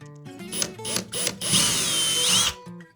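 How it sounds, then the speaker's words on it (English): A handheld power drill bores holes for plastic wall plugs while mounting a towel and wine rack, with a few short spin-ups followed by a longer, louder sustained run of drilling, close to the mic. "And then while I've got the drill here, for the plastic plugs,"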